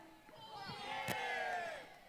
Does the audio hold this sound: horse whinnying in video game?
no